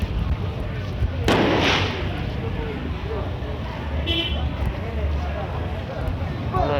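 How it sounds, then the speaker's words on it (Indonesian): New Year's Eve fireworks crackle and burst in the distance over a busy background of traffic and murmuring voices, with one sharp pop standing out. "Oh, udah ada bunyi kembang api tuh."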